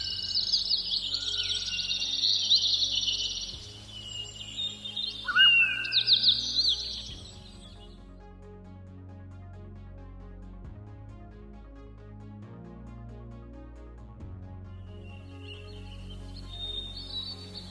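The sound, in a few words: birds singing in a park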